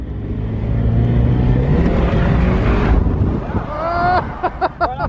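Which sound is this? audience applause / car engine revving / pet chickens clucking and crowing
car engine revving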